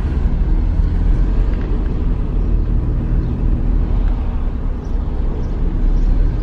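A car climbing the world's steepest street in New Zealand, its engine a steady, loud, low rumble that holds without a break throughout, with no voices over it.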